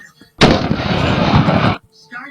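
A single loud, close gunshot sound effect bursts abruptly and holds as a dense roar for more than a second before cutting off, with faint talk just before and after.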